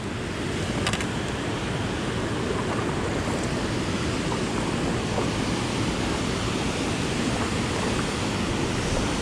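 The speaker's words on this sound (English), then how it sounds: "Right up in the waterfall." Rushing water pouring steadily from a waterfall below Center Hill Dam, a loud, continuous broadband roar that stays close and even throughout with no voices.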